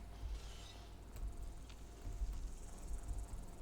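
Fallout 4 bloodbug creature buzzing, a faint insect-like drone with a thin high whine sitting in low background noise, continuous and distant rather than close.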